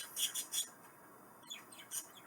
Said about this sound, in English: the minute I start talking, the birds start chirping